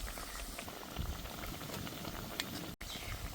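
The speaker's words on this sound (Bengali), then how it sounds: "কম আঁচে কিন্তু ভাজতে হবে, কম জালে, নয়তো কিন্তু পুড়ে যাবে।" Paneer pakora fry in oil on low heat, giving a steady, close bubbling sizzle with soft crackles and pops throughout.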